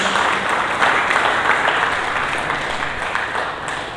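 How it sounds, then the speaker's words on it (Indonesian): A congregation claps for Jesus during an Indonesian church service, a sustained wash of many hands that holds steady and then eases slightly toward the end. "Berikan tepuk tangan bagi Yesus."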